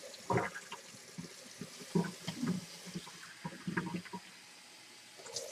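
Water is poured into a bowl of noodle dough mix made with salt, oil and egg, giving irregular close splashes and dribbles over several seconds with brief pauses between them.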